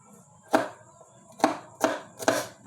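Knife chopping garlic into small pieces on a board: four sharp, close chops spaced unevenly over a quiet background, no talking.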